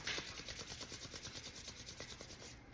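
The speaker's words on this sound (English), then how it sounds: "Shake it out. Rub the hands together." Hands rub briskly together during a guided grounding and relaxation exercise, making steady, rhythmic swishing strokes, close and quiet, with no talking.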